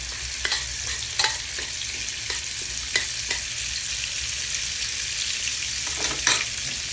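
Butter and a little oil sizzle in a pan while making beef caldereta, a constant close crackling hiss punctuated by several sharp clicks and scrapes of a utensil against the pan.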